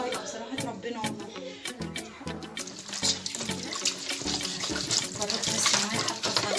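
Cold water running from a kitchen tap, a steady splashing wash with scattered clatter of dishes or utensils throughout, close and fairly loud, while someone talks.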